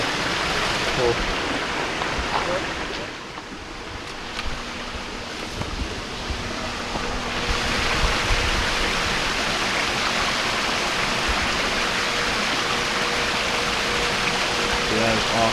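A trail waterfall where water drops off the path, giving a steady, loud broadband rush that runs the whole time and swells after the first few seconds, with people talking faintly over it.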